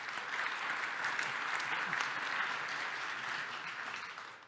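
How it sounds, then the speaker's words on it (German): Audience applause for Dr. Tiede at a panel forum on pensions and old-age poverty, a steady dense clapping from a crowd that stays loud throughout and fades slightly at the end. "Gerne einen Applaus für Dr."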